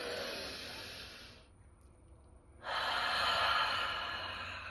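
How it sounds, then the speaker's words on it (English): A deep breath drawn in and released, one long airy inhale and exhale, a pause, then another strong close breath, no speech. "take one last big deep breath"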